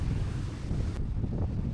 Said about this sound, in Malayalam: അത്രയ്ക്ക് ശക്തമായ കാറ്റും തിരമാലയും.